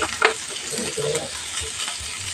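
Aromatics for bopis frying golden brown in a pan, a close, crackling sizzle with a stir or two near the start, moderately loud and continuous.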